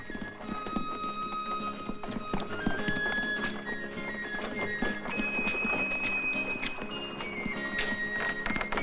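A horse's hooves clip-clop in steady walking rhythm at moderate distance, with jingling and clinking around them, as a horse is brought in to be shod in an old Western town.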